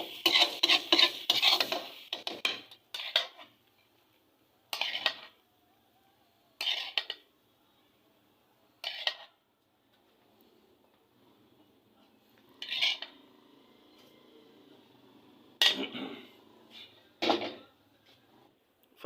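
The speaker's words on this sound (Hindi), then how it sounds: "अब इसे डिश आउट करते हैं सर्व करने के लिए।" Metal utensils scrape and clatter against a pan while egg fried rice is scooped out, coming in sharp separate bursts with quiet pauses between them, fairly close.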